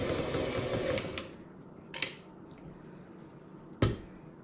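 A stand mixer whirs steadily through cake batter, a close motor drone that fades after the first second or so, punctuated by a few sharp clicks and knocks.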